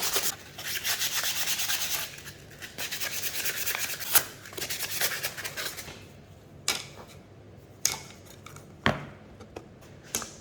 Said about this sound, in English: When you're happy with the fit, then we can give everything a final sand